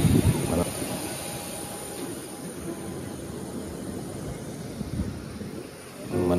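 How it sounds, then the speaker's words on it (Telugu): Aircraft engines warm up on the ground before a flight leaving Mumbai, a continuous roar with a high steady whine running throughout, heard from nearby at a fairly even level. "మన ఫ్లైట్ అయితే సిద్ధంగా ఉంది. వార్మప్ చేసి పెట్టినారనమాట. ఇంజిన్ హీట్ చేసి పెడతా ఉంటారు."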